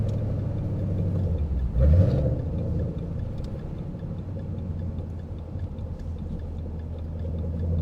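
Loud Ford Mustang GT V8 heard from inside during a drive, a steady deep engine rumble with one sharp rev-and-pull surge partway through, then settling back to a throbbing idle-like drone.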